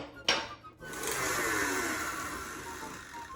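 Stand mixer fitted with a whisk attachment whirring steadily through pumpkin roll batter, starting after a brief clatter and running as a loud, continuous motor hum.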